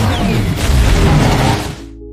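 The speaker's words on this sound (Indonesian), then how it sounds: "Ia melancarkan serangan terakhir ke arah Red Hulk, memicu sebuah ledakan energi yang dahsyat." Massive energy explosion in the film Captain America: Brave New World, a loud deep booming blast with crackling debris that rolls on for over a second, then cuts to quiet low hum.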